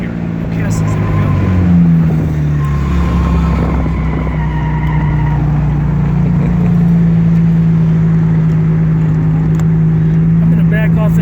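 A 1953 Jaguar XK 120 drives steadily on a road, its engine a continuous loud drone that shifts pitch as the driver backs off and downshifts into second gear, with no gear grind.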